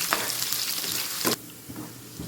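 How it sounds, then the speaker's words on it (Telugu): Onions frying in hot oil in a pan, a loud close sizzle with a stirring scrape, then the hiss drops suddenly and a few softer crackles follow. "3 పావుల ఆయిల్ వేడైన తర్వాత ఆనియన్స్."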